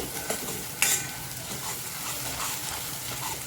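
Ground tomato gravy is added to a sizzling tempering of curry leaves in hot oil and stirred. Steady loud frying hiss runs throughout, with a sharp spoon scrape near the start and stirring scrapes over the sizzle.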